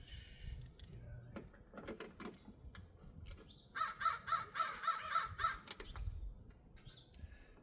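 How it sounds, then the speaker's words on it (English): A crow caws several times in a quick, regular series, moderately close, over quiet background rustling and occasional clicks. "the crows are loud today."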